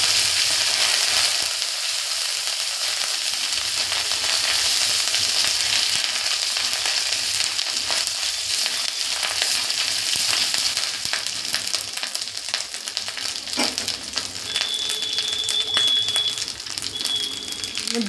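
Bay leaf, ginger paste and a little turmeric fry in hot oil, a steady close sizzle and crackle with occasional stirring scrapes and clicks, and a faint high tone near the end.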